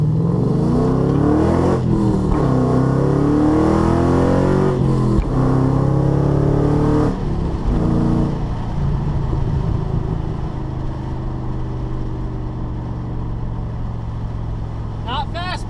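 A Ford Mustang with a new motor accelerates hard, its engine roaring loud and close as the revs climb through several gear pulls before easing to a steadier drone.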